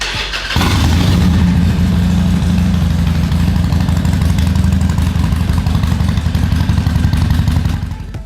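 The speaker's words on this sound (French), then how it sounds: "on va démarrer la moto, la faire tourner environ 5 minutes, le temps à l'huile de se réchauffer" A 2004-or-later Harley-Davidson Sportster motorcycle fires up after a brief cranking burst, then settles into a loud, steady, lumpy idle close by that fades slightly at the very end.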